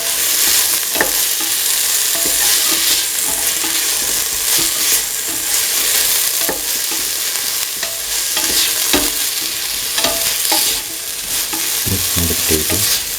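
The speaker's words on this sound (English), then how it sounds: "Mix in the potatoes." Potato pieces being stirred into a chickpea mixture frying in a pan: loud, steady sizzling close by, broken by repeated scraping stirs throughout, with no voices.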